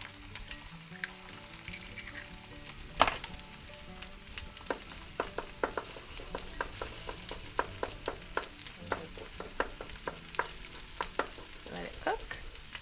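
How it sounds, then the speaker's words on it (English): Two eggs sizzle and fry in a pan for leftover fried rice, a steady crackling hiss dotted with sharp pops and scraping stirs, close and fairly quiet with no talking. "Just go ahead and cook the egg right in the pan here."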